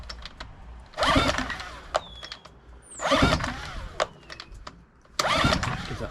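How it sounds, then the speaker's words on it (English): A Suzuki DF6A outboard motor, 2017 or later, being turned over with the recoil starter during a compression check: three separate rasping pulls of the cord, each a short engine churn, with light clicks and handling between them. "it's just a case now of giving it a few pulls just to build the pressure up on the gauge"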